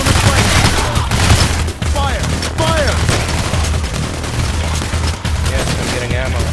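Dense, rapid gunfire rattles through a Payday: The Heist shootout on the Heat Street mission, loud and continuous in overlapping bursts, with players' voices calling out over it.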